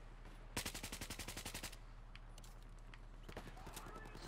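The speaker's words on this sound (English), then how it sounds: "I'm getting sniped at from B." Gunfire in an online team shooter game, heard as a rapid burst of about a dozen evenly spaced shots followed by quieter scattered pops and a further short volley, fairly faint and alone over a low steady hum.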